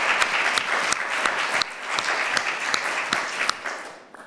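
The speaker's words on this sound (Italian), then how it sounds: "Grandi applausi!" Studio audience applause for a guest on an Italian TV broadcast: brisk, continuous clapping from many hands with a few sharper individual claps standing out, fading slightly at the end.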